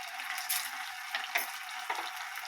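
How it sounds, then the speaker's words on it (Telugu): Ginger, green chillies and onions fry in hot oil as tempering for a cauliflower curry, giving a steady close sizzling hiss with a few brief louder crackles and stirring bursts, and no talking. "పోపు అల్లం, పచ్చిమిర్చి, ఇంకా ఆనియన్స్ బాగా వేగిన తర్వాత మనం కట్ చేసుకుని వేడి నీళ్ళలో కడిగిన ఈ క్యాలీఫ్లవర్ని ఫ్రై చేయాలి"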